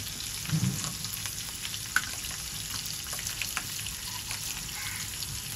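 Peanuts, chillies, curry leaves and asafoetida crackle in hot oil with a steady, close sizzle throughout, a brief louder burst near the start and a single sharp pop or clink partway through.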